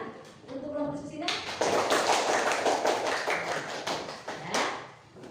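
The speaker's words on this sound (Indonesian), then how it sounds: "Coba tepuk tangan untuk kelompok diskusinya." A primary school class applauds its discussion groups, a burst of many small hands clapping close by for a few seconds, mixed with children's chatter and a teacher's voice.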